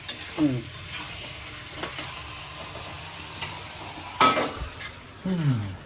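Chicken sautés in a pan while a spoon scrapes and stirs it, giving a steady sizzle broken by several distinct scraping strokes, close and without talk.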